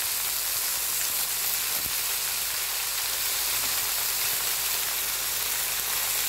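Chopped amaranth greens fry in a hot pan, giving a steady, dense sizzle that runs loud and even throughout with no one talking.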